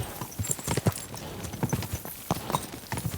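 Horses gallop along a road in the video game Kingdom Come Deliverance 2, with rapid, close, irregular hoofbeats pounding throughout.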